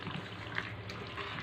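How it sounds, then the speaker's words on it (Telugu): Water poured into a pot of fish curry with tamarind in a home kitchen, a short, soft, splashing trickle at close range. "ఇంకా కొన్ని నీళ్ళు వేసుకున్నాము"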